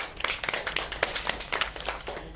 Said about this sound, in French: On peut l'applaudir, madame.